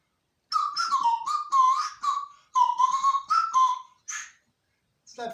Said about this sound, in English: you can actually play music with the slide whistle as well